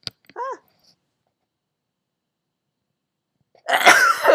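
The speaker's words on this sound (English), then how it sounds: "Gotta sneeze." One close, explosive sneeze bursts out after a brief voiced catch of breath and a long quiet pause, during a crochet session at home.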